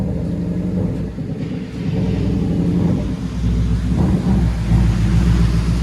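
A Ford Mustang 5.0L GT V8 with an aftermarket Krona exhaust idles with a steady, deep rumble that swells slightly now and then. It sounds close, with wind noise over it and no talking.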